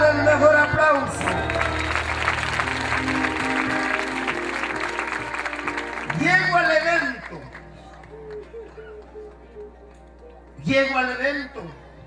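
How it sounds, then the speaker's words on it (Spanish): A church audience in San Marcos, Guatemala bursts into loud, sustained applause and cheering for several seconds. The applause then fades as a voice resumes speaking, with brief bursts of clapping returning later under his talk. "Dale el mejor aplauso."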